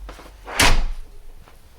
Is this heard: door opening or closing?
yes